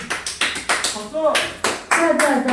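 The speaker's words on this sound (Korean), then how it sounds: "박수." A class claps in a classroom, sharp hand claps in a short rhythmic run, then a steadier patter. Children's voices come through between and over the claps.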